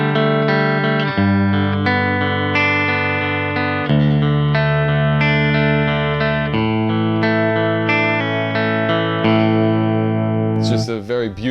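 Clean picked electric guitar run through a Marshall-style 800 amp in a British tone setting, playing sustained arpeggiated notes with shimmering effects, steady and loud, ending in a brief pitch-swept flourish.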